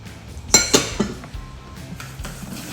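Ghee and jaggery powder mixed in a bowl, several close clinks of a utensil against the bowl, the strongest coming in quick succession and then fading into quieter scraping.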